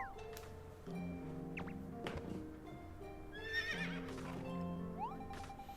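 Horse neighing and whinnying in the Fantasy Life video game, with a couple of loud whinnies over a steady hum of game music and clip-clop hoofbeats. Nobody talks.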